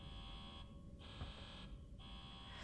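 An alarm blaring in Alien Isolation, a loud steady electronic buzzing tone that cuts out briefly twice in a regular on-off pattern over low background hum.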